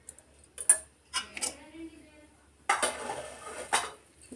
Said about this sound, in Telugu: వేడిగా ఉంది కదా అందుకనే గరిటెతో కలుపుతున్నాను.